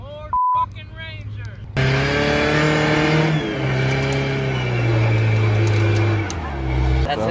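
A Ford Ranger truck engine revs at an outdoor summer truck show set-up day, a loud close engine drone rising and falling in pitch, with people talking nearby.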